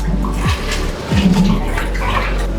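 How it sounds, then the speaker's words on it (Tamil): About 10 litres of water gushes and splashes steadily into a cooking pot, a loud continuous pour with sloshing surges. "இதில் வந்து ஒரு 10 லிட்டர் தண்ணி ஊற்றுறோம்."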